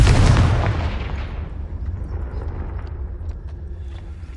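Confringo blasting curse exploding in Hogwarts Legacy: one big, close blast that hits hard at the start, then a long rumbling decay that fades away over several seconds, with faint scattered crackles trailing after it.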